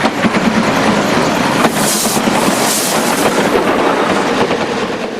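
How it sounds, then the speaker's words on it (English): A decorated QJ steam locomotive pulls an intercity passenger train out of Lingdong, China, with loud, dense chuffing and rumbling throughout, heard close and alone. "One of the decorated locos pulls out of Lingdong with an intercity passenger working."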